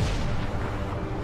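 Heavy artillery fire rumbles in a Foxhole war battle, a dense, continuous low booming barrage with no clear gaps between blasts.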